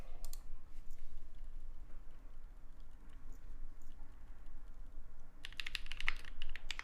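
Mechanical keyboard switches on a Space80 build typing near the mic at keyboard level, a steady patter of keystrokes with a brighter cluster of clicks toward the end.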